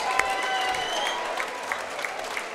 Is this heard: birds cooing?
no